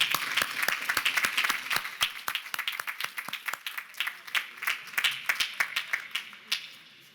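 At a college commencement ceremony, a large crowd gives a round of applause, sustained dense clapping with sharp individual claps that thins out and fades toward the end.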